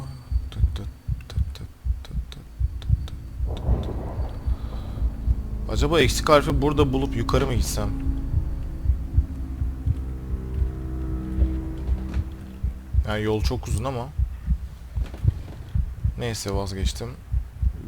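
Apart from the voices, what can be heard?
heartbeat speeding up in video game Among the Sleep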